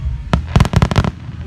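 Fireworks finale bursts go off in a rapid cluster, half a dozen loud booms and cracks packed close together after a single opening blast, near and without voices.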